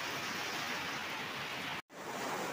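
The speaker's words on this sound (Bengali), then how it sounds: "বৃষ্টিটা হওয়াতে যে কী ভালো হয়েছে, বেশ ঠান্ডা ফিল হচ্ছে" Steady rain pours down on a hot afternoon at home, a dense, even hiss that fills the whole scene without pause, broken only by a brief silent gap near the end.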